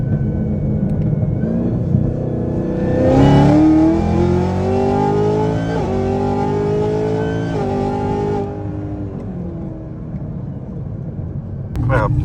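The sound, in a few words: tuned sports car accelerating during street test run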